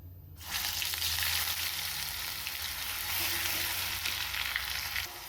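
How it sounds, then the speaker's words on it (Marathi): Ground masala paste hitting hot oil with cumin and mustard seeds, a sudden loud hissing sizzle that swells in at once and holds steady, close, with no speech. "हा मसाला आपल्याला छान असा ब्राऊन होईपर्यंत भाजून घ्यायचा आहे"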